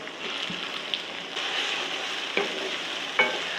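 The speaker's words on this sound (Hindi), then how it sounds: "मसाले के साथ भून लेती हूँ मैं सब कुछ" Tomatoes and green chillies sizzle in a pan with spices and a garlic-ginger paste, a steady bright hiss with a few soft clicks of stirring, close and alone.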